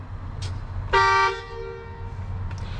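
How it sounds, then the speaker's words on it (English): A box truck's horns: a single loud, brassy air horn blast lasts about a third of a second, with a couple of brief fainter electric horn toots before and after. "You have an electric horn. I forgot. It's electric. And then you got an air horn."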